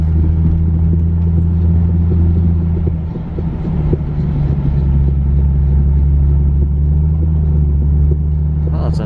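An Infiniti G37S with a failing wheel bearing, driving along: a steady, loud low drone and rumble runs throughout, holding constant under the road and engine noise.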